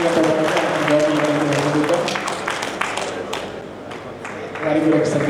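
Loud, sustained applause from a crowd honouring Lions Club past governors at the Nizamabad Lions Club anniversary, dense clapping filling the clip with voices mixed in and a fresh swell near the end.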